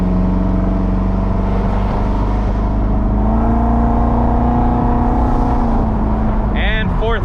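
A supercharged 50th Anniversary C5 Corvette pulling hard from inside the cabin, its loud steady engine drone rising in pitch through the gears, with a brief whine near the end.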